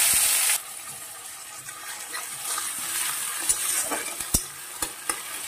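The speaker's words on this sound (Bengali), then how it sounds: "পেঁয়াজটাকে আমি 1 মিনিটের মতন ভেজে নেব।" Chopped onions fry with cumin, bay leaves and cloves. A burst of loud sizzling as they hit the oil settles into a steady crackle, with occasional sharp utensil knocks toward the end.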